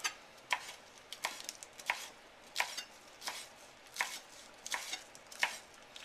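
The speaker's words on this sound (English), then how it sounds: "we want to give it a real decent chop" Celery chopped with a ceramic knife on a board: a close series of crisp, fairly even cuts, roughly one or two per second, with quiet pauses between strokes and no voices.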